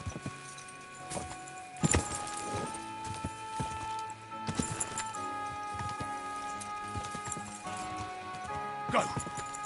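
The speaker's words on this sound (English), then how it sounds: "Easy, good horse." Horse hooves clip-clopping at a walk in the video game Kingdom Come: Deliverance 2, a steady near rhythm of hoof falls mixed with game ambience and occasional louder knocks.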